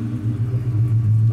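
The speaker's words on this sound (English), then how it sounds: "Very nice exhaust" A 2003 Mustang with Magnaflow mufflers and a cross pipe burbles at idle, making a deep, loud, steady exhaust rumble with a slight pulsing throb, heard close up and without talking.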